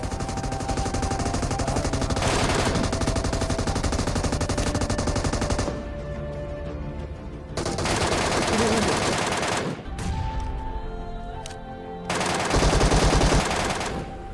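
Gunfire in the mobile battle game PUBG Mobile, with loud, dense automatic bursts going nearly nonstop and a few brief gaps between volleys.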